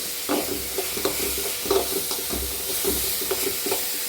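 Crushed spices sauté in a pan for a crab roast, giving a continuous sizzle with soft rhythmic scraping and stirring knocks recurring every half second or so.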